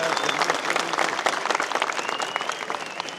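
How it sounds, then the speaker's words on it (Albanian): Applause at a PDK political rally in Drenas, Kosovo, a crowd clapping steadily and fairly close for a few seconds with no talk over it. "le t'i përshëndesim me një duartrokitje të madhe"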